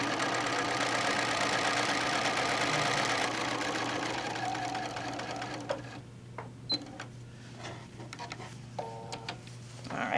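Sewing machine running a steady whir as it stitches around the edge of a placemat, then stopping midway and giving way to quiet handling clicks and rustles of fabric.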